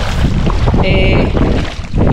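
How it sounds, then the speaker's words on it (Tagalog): Strong wind buffets the microphone in a steady, loud low rumble on the water off Port Barton, Palawan, with faint water and boat sounds beneath and a brief whistling tone in the middle. "Ayan oh, medyo malakas yung hangin."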